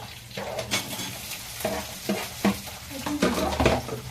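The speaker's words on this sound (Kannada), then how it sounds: "ಕರ್ಬೇವು ಹಾಕ್ಬಿಟ್ಟ ಚಟಪಟ" Curry leaves crackle in hot oil with bursts of sizzling and sharp spits, mixed with a spoon stirring and scraping against the pan, close and moderately loud.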